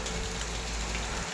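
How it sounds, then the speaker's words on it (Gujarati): Steady, continuous rain that has kept falling for three days pours down as a dense, even hiss, close and loud, with no voices over it. "3 દિવસથી એક ધારો વરસાદ ચાલુ છે"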